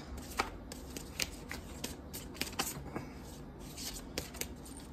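An oracle card deck is shuffled by hand at close range, giving soft riffling with sharp intermittent card snaps, quiet and steady with no talking.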